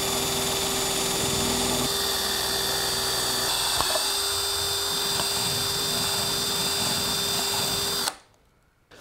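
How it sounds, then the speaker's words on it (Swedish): A power drill bores a hole straight through a wooden table, whining steadily and loudly at close range for about eight seconds before it stops abruptly. "Vi har borrat hål."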